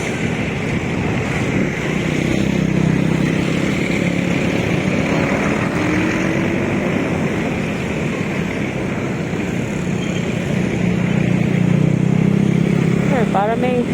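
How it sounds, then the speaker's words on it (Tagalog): A loud tugboat engine on a river heading toward Laguna Lake, heard as a steady, heavy low rumbling drone that holds throughout, with a voice speaking over it. "Grabe, ang lakas ng tagbo."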